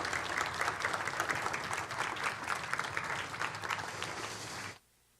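A Sunday church congregation breaks into warm, full applause, many hands clapping steadily for several seconds before it cuts off abruptly into silence.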